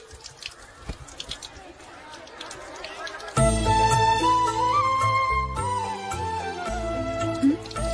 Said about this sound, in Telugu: ట్యాప్ పాడైపోయింది. నీళ్లు చూడు ఎలా వేస్ట్ అయిపోతున్నాయో.